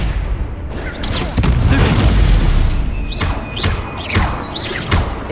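Fire spells cast in a Hogwarts Legacy battle burst as a run of booming thuds and whooshes with crackling flame, followed by several sharp magical zaps over ongoing game noise.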